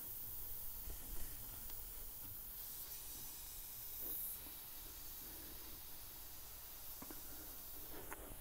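Steady air hiss from a boost leak at a supercharger intake elbow on a Procharger-equipped engine, a faint continuous rush with small swells and no talking.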